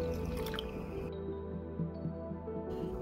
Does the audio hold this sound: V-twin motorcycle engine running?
no